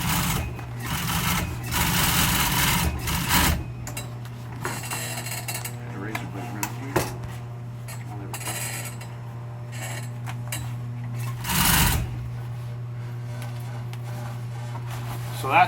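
A sewing machine stitches a custom pad, with a low, steady motor drone and louder bursts of rapid stitching at the start and again near the end, and a voice talking at times.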